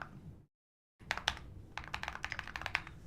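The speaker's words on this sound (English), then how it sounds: "Sound of the keyboard's awesome." Rapid computer keyboard typing, a dense run of crisp clicking keystrokes after a brief silence, close and clear with no talking.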